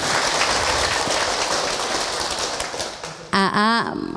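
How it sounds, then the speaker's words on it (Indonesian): Audience applause at an Islamic study gathering in Serang, a dense, even patter of clapping that fades over about three seconds before a tonal voice cuts in. "tepuk tangan buat orang Serang"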